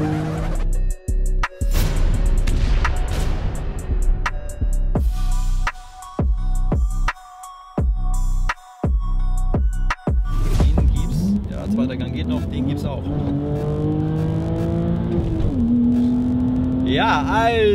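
A car on Michelin Pilot Super Sport tires accelerates hard through the gears, the engine note climbing with pauses at shifts, then pulling up again in second gear, loud and close, with someone speaking German over parts of it.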